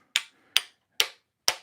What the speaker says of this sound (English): So I'll use this hammer to kind of